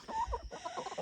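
Hens in a straw-bedded chicken run cluck in a quick, close, busy burst of short calls, with no talking.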